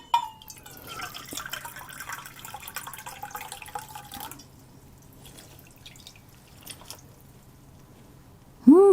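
Water trickles and drips into a container of freeze-dried chicken, a light close pour for several seconds that fades to near silence before a sudden louder splash at the end.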